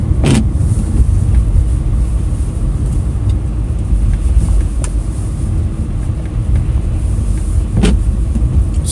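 A car driving, heard from inside the cabin as a steady loud low road and engine rumble, with a few brief clicks or knocks over the drone.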